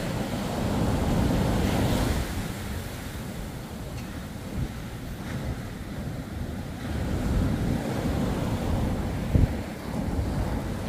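Waves slam against a Z-Craft powerboat, hull F2206, in rough water: a steady roar of surf and spray with wind buffeting the microphone and a brief sharp knock near the end, no voices.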